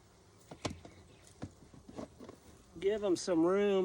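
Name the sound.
honey bees buzzing around an open hive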